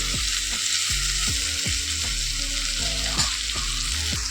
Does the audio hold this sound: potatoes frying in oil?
yes